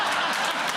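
A studio audience at a comedy quiz show claps for a contestant's answer, a short even burst of crowd applause with faint chuckling mixed in.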